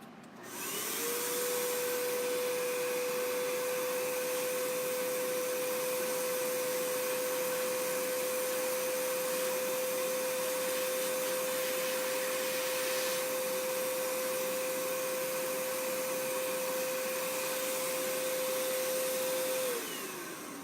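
A paint sprayer runs loudly and steadily for about twenty seconds, a constant whining hum with a fixed tone that starts and stops cleanly, with no talking over it.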